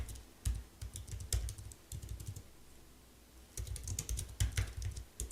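Someone types on a computer keyboard in short bursts of quick, soft key clicks, pausing briefly in the middle before a final run of keystrokes.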